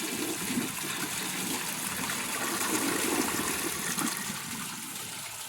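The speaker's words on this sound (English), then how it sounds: "So that is how a Mansfield Alto is supposed to flush." A 2008 Mansfield Alto toilet flushes with the handle held down, giving a steady rushing, gurgling wash of water that stays at a constant level without pause.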